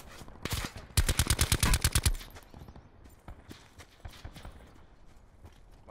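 Rapid burst of gunfire in a video game, a tight volley of shots in the first seconds followed by scattered quieter reports and clicks, loud and close.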